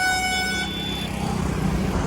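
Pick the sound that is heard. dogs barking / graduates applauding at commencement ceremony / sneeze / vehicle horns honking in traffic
vehicle horns honking in traffic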